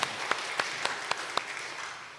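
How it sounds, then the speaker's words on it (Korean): A church congregation claps during a Sunday worship service, a steady, fairly quiet wash of applause with a few sharper claps standing out at regular intervals. "하나님 영광에 박수 드리겠습니다"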